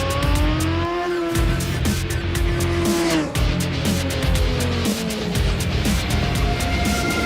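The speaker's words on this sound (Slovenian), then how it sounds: "Športni motocikli." Sport motorcycles rev and ride past with a loud, continuous engine whine that rises and falls in pitch, close and unbroken, with no talking.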